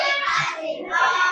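Schoolchildren in a classroom clap together in a short burst of quick, dense applause, close and fairly loud, lasting about a second.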